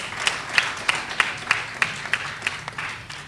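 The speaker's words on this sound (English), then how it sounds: "Give them another round of applause." An audience at a school student business-idea showcase claps in a steady, evenly spaced rhythm, the crisp claps close and clear over a faint room murmur for a few seconds.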